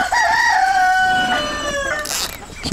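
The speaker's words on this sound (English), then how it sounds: "Going to panic the chickens a little bit and the ducks." A rooster crows loudly and close by among backyard chickens and ducks, a drawn-out rising and falling call, followed by a brief squawk of alarm near the end.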